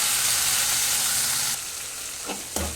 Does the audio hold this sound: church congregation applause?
no